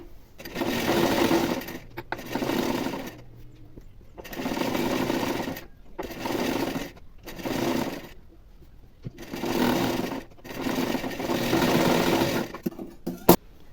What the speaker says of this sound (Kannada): ಲೈನಿಂಗ್ ಸೈಡ್ಗೆ ಒಂದು ಟಾಪ್ ಸ್ಟಿಚ್ನ ಹಾಕೊಳ್ಳೋಣ